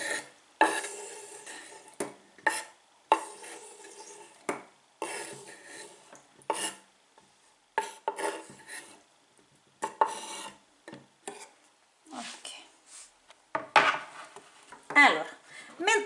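A spoon stirs honey, lemon and ginger in a glass jar, making repeated clinking and scraping strokes against the glass in an uneven rhythm, close and moderately loud, with no voices.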